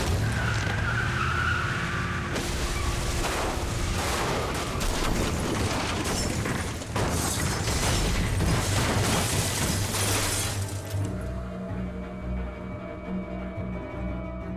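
In The Walking Dead video game, a car skids with a long screech, rough scraping and crashing impacts, all loud and continuous for about ten seconds. A low, quieter rumble with a faint hum follows.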